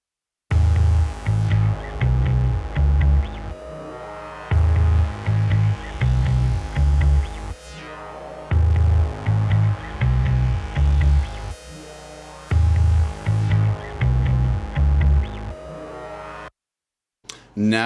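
Electronic track with synth layers joined by a punchy bass line, loud rhythmic low notes pumping in short repeated bursts under a sustained synth tone, looping through several phrases before a brief silence near the end.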